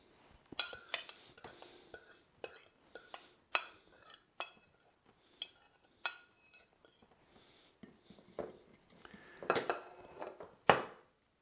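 Honey, sriracha and soy sauce are stirred together in a small bowl with a utensil, giving a series of sharp, close clinks and scrapes at an irregular rhythm, with quiet gaps between them.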